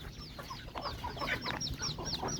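A flock of thirty to forty chickens on a farm, close and busy clucking with overlapping short calls from several birds.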